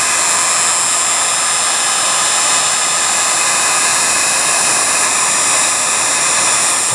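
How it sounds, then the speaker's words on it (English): A heat gun blasting hot air to shrink heat-shrink tubing during a radio restoration, a loud, steady, close hiss-roar that holds unchanged from start to finish with no talk. "we're going to take our heat gun, and we're going to shrink that thing and see what it looks like"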